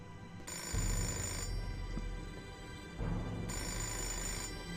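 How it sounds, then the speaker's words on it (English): Telephone in a church in the video game Fahrenheit rings in two clear bursts separated by a pause, a bright electronic trill heard alone without voices. "I'm really curious about where this phone is in that church. How is it that loud?"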